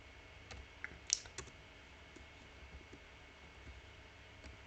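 Computer keyboard typing while entering a value into an SQL table: a few sparse, soft clicks, close but faint, in a quiet room with low background hiss.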